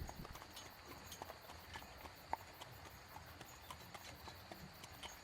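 Steady clip-clop of horse hooves while riding in the video game Witcher 3: Blood & Wine, an even walking rhythm at moderate distance with one sharper knock midway.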